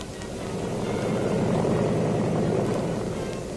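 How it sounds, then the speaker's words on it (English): An infantry transport plane comes in with a steady, broad propeller drone that swells slightly in the middle and holds, no voices present. "The first infantry plane is coming in."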